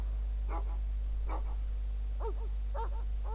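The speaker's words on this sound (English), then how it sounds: "there's dogs barking in the game" Dogs bark in a game scene, several separate sharp barks spaced across the moment over a constant low background hum, moderately distant.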